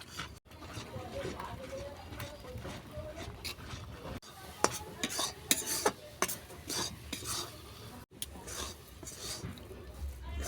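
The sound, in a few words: stirring mango paneer sandesh with mango puree in a pan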